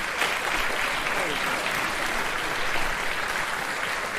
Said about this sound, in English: Stand up for a round of applause, Bob.